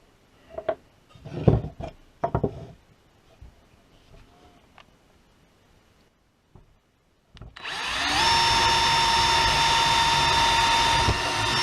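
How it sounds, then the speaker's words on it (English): A power drill bores a hole into a wall for shelf mounting, starting abruptly after scattered handling knocks and running as a loud, steady high-pitched whine that holds to the end. "When I drilled the hole there"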